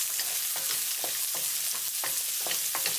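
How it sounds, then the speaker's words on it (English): Fish fried in a wok with onion and chili sizzles steadily while a utensil stirs it in repeated scraping strokes, close and even, with no voices. "When they start to be golden, add the onion and the chili. Stir for 20 seconds."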